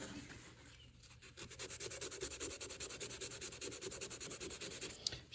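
Knife scales are sanded by hand with coarse 80 grit sandpaper on a knife kit, giving a steady rapid rasping of back-and-forth strokes, close and even, with no talk over it.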